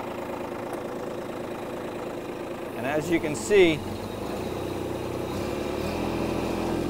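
Tractor engine droning steadily while the machine sits stuck in mud at the bottom of a steep embankment, with a brief mechanical clatter and rise midway; someone talks over the running engine.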